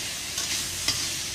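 Pork belly sizzles and is stirred in a hot pan while being stir-fried with basil, a steady bright frying hiss with a couple of brief spatula scrapes, close and alone.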